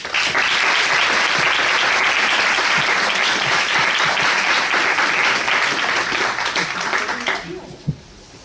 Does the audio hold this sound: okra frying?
no